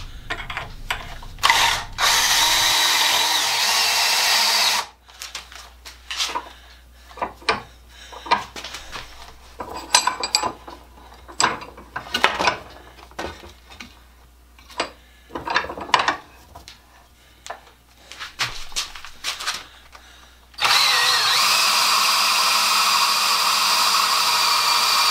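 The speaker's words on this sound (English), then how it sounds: "I went and got the battery drill because I was puffing pretty hard by this time" A battery drill bores into the wooden handle of a garden rake, its motor whirring in repeated short bursts with pauses between, close by, framed by a steady louder whir at the start and end.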